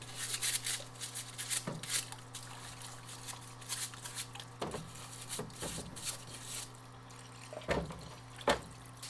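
Tap water rinses out parts of a rebuilt Ford power steering pump from a 2001 F250, with a steady trickle and splash and a few louder clunks of parts knocked under the stream.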